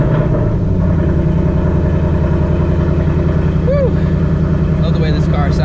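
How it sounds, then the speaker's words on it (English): A 2024 Ford Mustang engine at cold start, a loud steady low rumble filling the whole stretch with a brief rising tone partway through. "Let's get a cold start and get this video underway."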